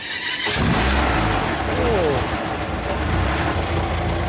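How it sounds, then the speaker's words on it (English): A Rover SD1 carrying a 27-litre Merlin V12 tank engine cranks and fires into a loud, deep, rumbling idle that stays steady and close. "under that bonnet is a 27-litre Merlin V12 engine from a tank"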